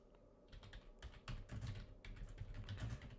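Fingers type a search on a computer keyboard, producing a quiet, close run of rapid clicking keystrokes in irregular bursts with brief pauses and no talk.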